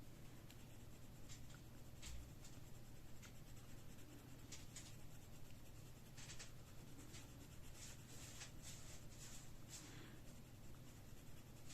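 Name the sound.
coloured pencil shading on paper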